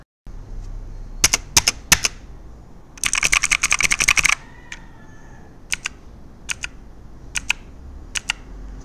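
Clicky Cherry MX Blue switches on a mechanical keyboard: sharp separate clacks, then a fast run of rapid keystrokes, then scattered single presses, close and crisp against a quiet background.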